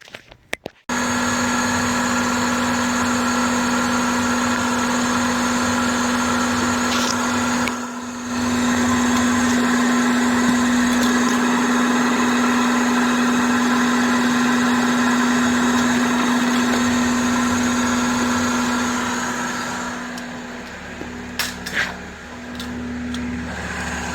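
A 2000 Toyota Camry engine cranks briefly and catches, then settles into a steady, loud idle with a constant hum, close by and with no talking, fitted with a fuel pressure gauge.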